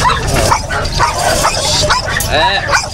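A female American Bully dog, about 11 months old, barks and yips loudly and close, while people talk over a steady noisy background.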